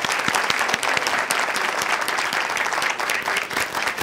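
A talk show studio audience delivers sustained, dense applause with many individual claps audible, loud and even from start to finish with no voices over it.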